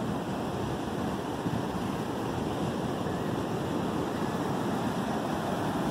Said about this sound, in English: And the waves are unpredictable.